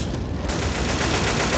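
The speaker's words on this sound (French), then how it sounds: "Utilisons le magnum pour ne pas gaspiller les munitions" Rapid, sustained gunfire from a magnum pistol in the zombie shooter Left 4 Dead 2, dense and loud throughout with overlapping shots and game noise, no clear gaps between bursts.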